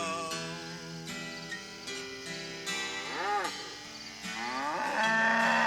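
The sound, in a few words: cow mooing in a comedy song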